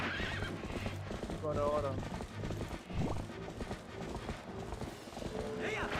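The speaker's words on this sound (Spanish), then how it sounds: "¿Cómo es que tiene caballos?" Horses in a video game neigh and whinny while hooves clop steadily throughout, with a voice speaking briefly over the animal sounds.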